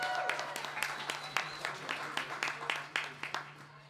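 A small crowd gives scattered, fairly sparse clapping for a singer at a live music event, the individual claps near and distinct over about four seconds, with no talk over them.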